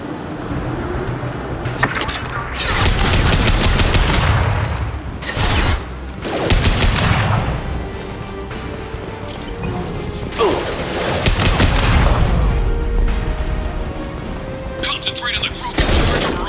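Heavy gunfire and sharp cracks in Mass Effect 2 Legendary Edition, a high-impact shot among repeated loud booming blasts and mechanical clatter, with battle voices talking over the combat throughout.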